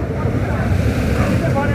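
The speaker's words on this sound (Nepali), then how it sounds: "यहाँ चाहिँ यो एउटा खोला नै जस्तो खालको आवाज आइरहेको छ" Water gushing under heavy pressure from a large burst pipe at a street junction, a loud, continuous roar like a rushing river filling the whole short stretch.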